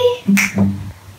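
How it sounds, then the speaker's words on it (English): A few crisp finger snaps, roughly three short clicks in quick succession, close and clear with no talking over them. "I need you to try and snap your fingers"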